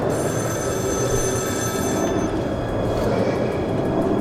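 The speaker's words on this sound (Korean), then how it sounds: "어, 전화 울린다." A telephone ringing in the video game Metro Last Light, a continuous trilling ring over loud, rumbling ambient noise, which stops partway through and leaves the rumble.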